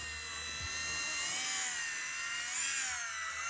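An Eachine 130S brushed-motor RC helicopter lifts off with a one key takeoff, its small motors giving a steady, high-pitched whine that wavers slightly in pitch while it hovers nearby.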